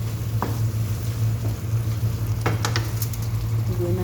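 Tomato paste sizzling in a pan while cooking chicken biryani, a steady close hiss of frying with a low hum beneath and a few light clicks and scrapes, no voices.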